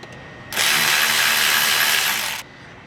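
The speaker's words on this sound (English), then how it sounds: "loosen our clamp on our throttle body by using a 10mm socket" A power tool drives a 10mm socket to loosen the throttle body clamp on a Gen 3 Toyota Tacoma, giving one steady, loud, close whir of about two seconds that stops abruptly, with no talk.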